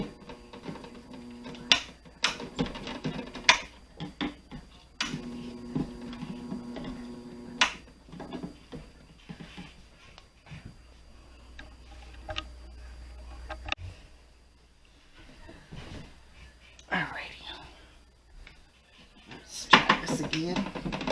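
A loud electric juicer whirs in intermittent bursts as onion and fruit are pushed through it, mixed with clattering plastic and handling knocks.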